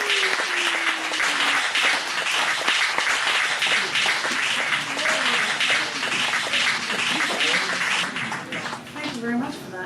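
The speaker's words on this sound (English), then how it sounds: "Let's give her a big, big round of applause." An audience at a live poetry cabaret show at a Chicago gallery gives a loud round of applause that continues throughout, while a voice talks over the clapping.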